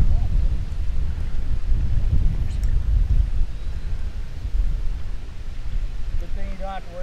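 Strong wind buffets outdoors beside a river during drought conditions, a steady, loud low roar of gusts across the microphone throughout, with brief faint voices or other sounds near the end.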